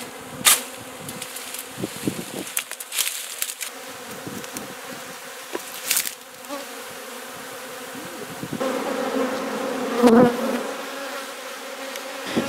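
Honey bees buzz around a sheltered beehive, their steady hum broken by sharp, loud passes of individual bees close by, with several louder buzzes and taps throughout.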